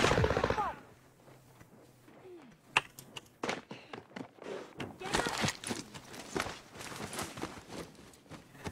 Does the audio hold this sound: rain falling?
no